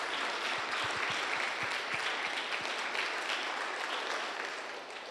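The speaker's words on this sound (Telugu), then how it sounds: "మీ చప్పట్లు బాగున్నాయి కానీ అవి లెక్కలోకి రావు." A church congregation at a Pentecost feast claps together, a steady wash of many hands applauding for several seconds before gradually fading slightly toward the end.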